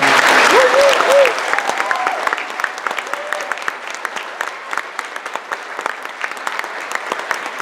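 Audience applause at a comedy class showcase held in an opera house, loud and dense at first, then settling into steady, lighter clapping with a brief vocal sound near the start.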